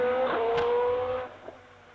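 A 4-litre V8 Judd-engined hillclimb race car pulls away off the start line, its engine note loud and close at first, then fading quickly as it moves away.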